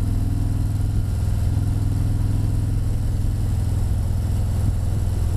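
A motorcycle engine runs steadily close by, a loud, even low-pitched throb with a rapid pulsing rhythm and no change in speed.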